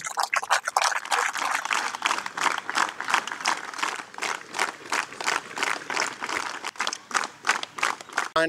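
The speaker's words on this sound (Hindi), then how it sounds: "तालियों से खिलाड़ियों का मनोबल बढ़ाएं।" Spectators at an inter-battalion CRPF yoga competition in Namsai clap, a dense, continuous applause that pulses in strength over several seconds, fairly faint and heard without any talking over it.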